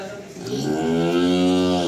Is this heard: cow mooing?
yes